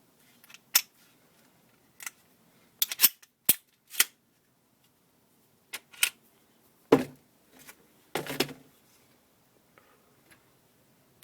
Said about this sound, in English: I'll disassemble the gun so it's easier to see.